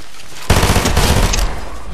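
Rapid automatic gunfire in a video game, a sharp burst that starts abruptly and rattles on loudly for over a second with no talking over it.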